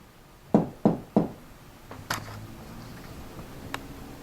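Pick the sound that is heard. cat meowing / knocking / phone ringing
knocking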